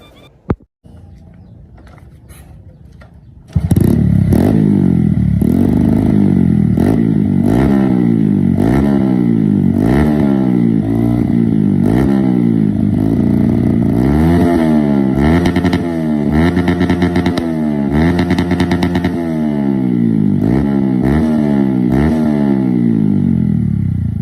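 A Honda Revo motorcycle with a bored-up engine starts and revs repeatedly, its loud exhaust rising and falling in rhythmic bursts close by, with no talking.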